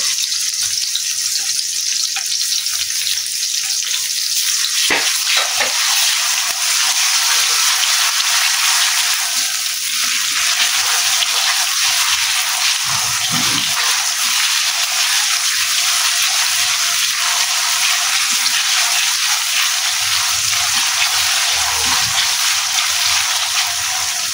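Onions fry in a pan with ginger garlic paste, giving a steady, bright sizzle that runs throughout, with a few soft stirring knocks and scrapes near the pan.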